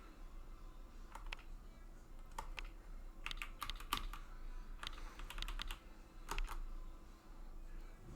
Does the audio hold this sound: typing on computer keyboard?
yes